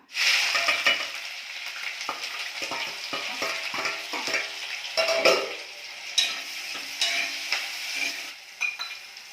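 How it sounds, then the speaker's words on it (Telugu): Mustard seeds frying in oil in a kadai crackle and pop densely up close, a loud hiss at first settling into a steady sizzle dotted with sharp spits and occasional utensil clinks. "కడాయిలో ఆయిల్ పోసుకున్నానండి, ఆవాలు వేసుకున్నా"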